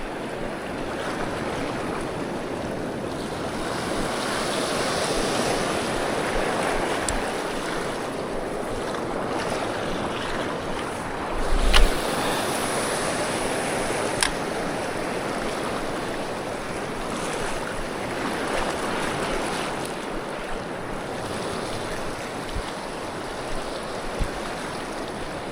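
Wind and sea waves heard from a small boat out on open water, a steady broadband rush with washing surf, one brief louder thump midway and a few light knocks, no voices.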